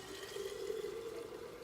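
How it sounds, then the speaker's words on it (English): Filtered water running from a kitchen sink tap into a bottle, a steady, faint rushing stream without pauses. "So I use my filtered water right from my sink, which is over here, you can't see it, and just fill it up."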